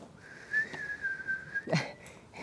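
A person whistles a single sustained, slightly wavering tone for about a second, followed by a brief rising chirp, faint against a quiet room background.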